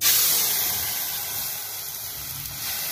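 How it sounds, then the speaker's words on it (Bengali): Milk poured into a hot frying pan holding fried puli pitha filling, giving a loud close hiss that fades steadily over a few seconds. "ভাজাটা হয়ে গেছে, এরপর দুধ দেবো।"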